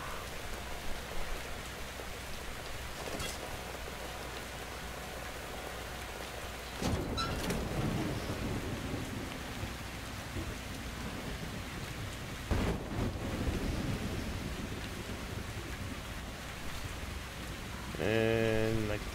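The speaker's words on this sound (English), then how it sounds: "And it's raining." Steady rain falls in the post-apocalyptic shooter Metro Exodus, a continuous hiss with occasional rumbling swells that may be distant thunder and some brief in-game sounds and noises near the end.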